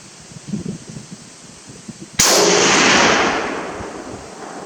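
A single sharp, loud gunshot from a French MAS 49 rifle cracks out mid-clip, followed by a long fading echo across open ground, after quiet rustling and handling sounds.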